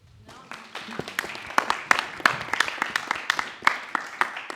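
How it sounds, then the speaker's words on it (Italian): An audience bursts into scattered applause after a talk on David Lynch's Mulholland Drive, individual claps building from sparse to a moderate, fairly close patter. "Un applauso."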